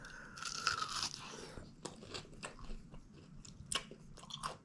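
Crunchy bacon-wrapped meatloaf cooked in a titanium rice cooker being bitten and chewed, with close, crisp crunching bursts and repeated mastication sounds over about five seconds, no talking.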